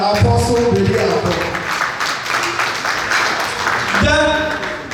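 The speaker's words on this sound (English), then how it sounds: "Let's clap for Apostle Bediako." A church anniversary crowd applauds, with a burst of clapping that swells and continues under a speaking voice.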